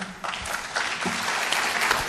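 A crowd claps steadily, a brief burst of applause that holds at an even level throughout.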